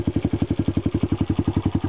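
A homemade quad bike's engine runs steadily close by, thumping out an even, rapid pulse of exhaust beats that holds constant throughout, with no voices.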